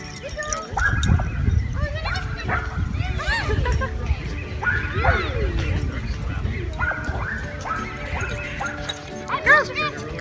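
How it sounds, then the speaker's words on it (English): Dogs at a dog park barking, yipping and whimpering in repeated short bursts, near and mid-distance, while a person talks over the play. "You're not supposed to bark."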